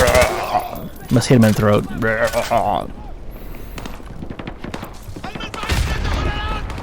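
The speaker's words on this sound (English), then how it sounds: "Let's shoot these guys." Gunfire in Call of Duty: MW2, rapid bursts of automatic shots crackling in clusters, loud and close, with someone talking over the shooting.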